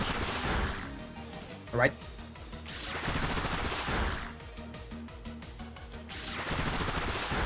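A Bullet Seed attack during a Pokémon Scarlet and Violet battle fires in rapid, popping volleys over the game's music, and someone speaks briefly.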